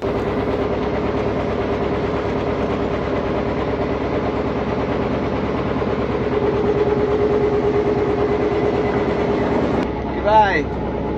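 The engine of a new fishing trawler runs with a steady, loud, rhythmic thrum throughout. A brief higher-pitched sound rises near the end, and someone talks over it.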